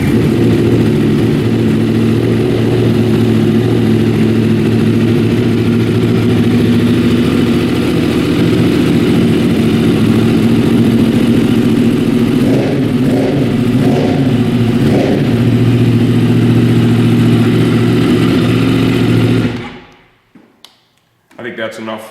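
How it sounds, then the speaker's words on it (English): Yamaha YZF-R1 sportbike engine of the 2015–2017 generation running steadily close by, with a few blips of revving partway through before it cuts off and falls silent. "The first thing you should do is run it and evaluate it."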